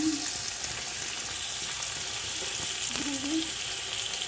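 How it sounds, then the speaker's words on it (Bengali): Spices frying in a pan for ruti tarka, a steady close hiss of sizzling oil with a few faint clinks of stirring under it. "এগুলোকে ভালো করে নেড়ে চেড়ে একটু ভেজে নিতে হবে"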